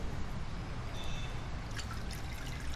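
Brine trickling and splashing as pickled ghost peppers are drained into a bowl, a soft continuous watery pour heard close up and fairly quiet.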